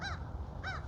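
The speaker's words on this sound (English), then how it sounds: "I hear you, bird." A bird caws twice in quick succession, two harsh crow-like calls close by over a low background rumble.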